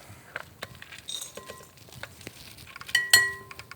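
Pulsed vegan Thai taco filling being dumped from a food processor into a bowl, with scattered clinks and scrapes of utensil and container, a few sharp knocks near the end, close and moderately quiet.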